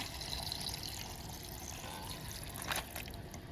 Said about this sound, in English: I'm just gonna add water till I think it looks good